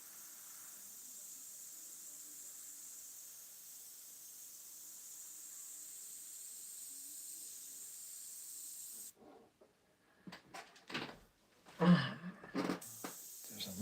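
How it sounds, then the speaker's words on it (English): An airbrush spraying paint onto a seascape canvas gives a steady, soft hiss that runs unbroken for about nine seconds, then stops, followed by faint scattered handling noises and brief taps. "Further away with the airbrush here."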